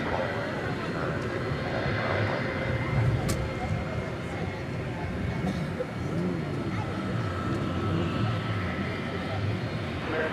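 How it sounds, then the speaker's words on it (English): Airbus A321 jet on Flight 303 to Spokane at DFW Airport at night, a steady broad engine rumble and roar heard from a distance, continuous for several seconds with a faint brief click partway through. "Flight 303 to Spokane, an Airbus A321."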